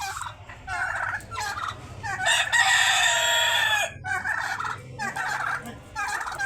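Chickens cluck and squawk close by in a busy, overlapping flurry, with one louder, sustained call rising in the middle.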